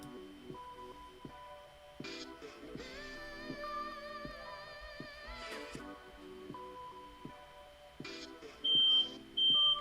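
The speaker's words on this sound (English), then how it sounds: "Uh-oh, fire alarm." A fire alarm beeps in repeated short high tones over a quiet background with other electronic chimes and tones, ending in two louder bursts.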